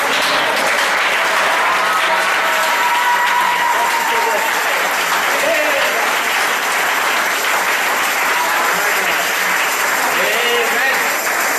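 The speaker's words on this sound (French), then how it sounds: "Un applaudissement pour la parole." Church congregation applauding during a sermon, continuous dense clapping from a large crowd lasting over ten seconds, with voices faintly mixed in.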